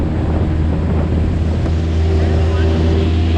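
A small aluminium tinny motoring on the Fitzroy River in full flood, its outboard engine droning steadily and loud up close, with wind buffeting the microphone and rushing water throughout.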